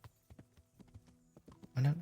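Steady hoof clip-clops of a tired horse walking at an even pace in the video game Kingdom Come: Deliverance, with a brief louder rush of noise near the end.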